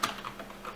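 A few quick keystrokes tap on a computer keyboard, light and close, in a quiet room with no talking.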